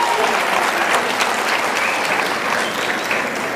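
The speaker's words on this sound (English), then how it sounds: "Let's clap for ourselves." An audience at a university global alumni meet applauds together, a dense, steady wash of many hands clapping that holds at an even, fairly loud level throughout without letting up.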